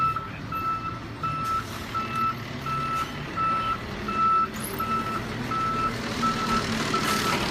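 Trucks back up onto church property with a steady, repeating backup beeper, evenly spaced mid-distance tones running under rumbling engine and road noise throughout.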